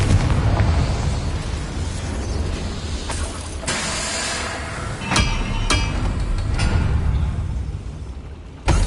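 Confringo blasting spell in the Hogwarts Legacy video game, a run of sharp, loud bursts and booms over a rumbling game soundscape, with several distinct impacts spaced across the stretch.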